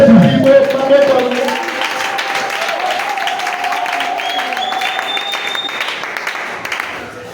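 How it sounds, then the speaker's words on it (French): A church congregation at a Sunday thanksgiving service claps and cheers in a loud, full burst that slowly eases off, with a voice and music carrying over the crowd. "Acclame très fort pour Jésus"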